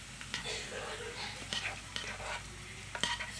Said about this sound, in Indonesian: Kita masukkan nasi yang sudah kita aduk telur.